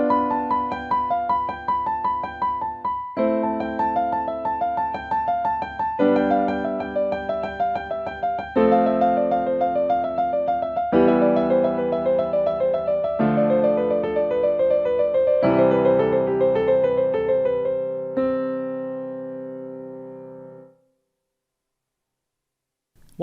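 Solo piano plays a finger exercise pattern that steps down the keyboard one position at a time, each repetition of even notes over held chords shifting lower, close and clear, ending in a fading final chord and brief silence.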